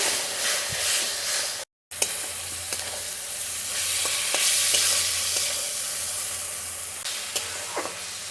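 Steady frying sizzle of onion and tomato in a pan, with occasional scraping and stirring clicks, briefly cut off once, with no voices.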